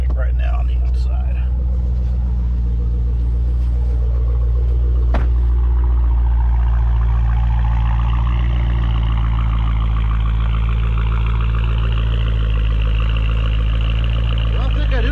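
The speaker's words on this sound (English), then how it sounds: "Let's see what it sounds like right now on the outside." A Dodge Challenger Scat Pack with its active exhaust deleted idles outside, a loud, steady, deep rumbling exhaust drone heard up close with a brief tap early on.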